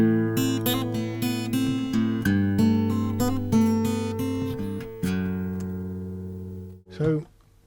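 An acoustic guitar is strummed and plucked with the thumb, recorded with a close mic near the sound hole, warm full notes and chords ringing out alone before a final brief sound at the end.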